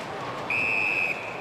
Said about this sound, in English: Whistle, and umpire's going to take it back.